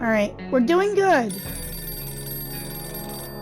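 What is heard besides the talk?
telephone ringing in video game 60 Seconds Reatomized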